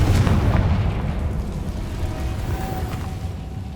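A Confringo spell blast in Hogwarts Legacy, a loud booming explosion with a dense low rumble that fades slowly over a few seconds.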